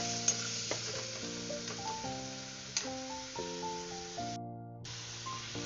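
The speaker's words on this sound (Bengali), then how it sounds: "এবারে মশলাটাকে ভালো করে সাঁতলে নেব" Spice paste with chilli powder and a splash of water sautés in oil for gandhoraj lime tilapia curry, a steady sizzle with occasional stirring scrapes running alongside a melodic background tune throughout.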